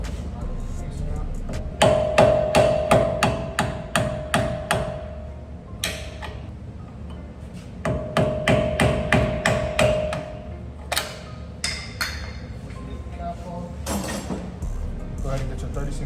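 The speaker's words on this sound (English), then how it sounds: "Now we're going to get this hubcap off. So go ahead and use the flathead and hammer." A hammer drives a flathead screwdriver against a Ford Mustang hubcap in rapid bursts of sharp metallic taps, roughly a dozen per run with short pauses between, close and loud, under a faint background hum.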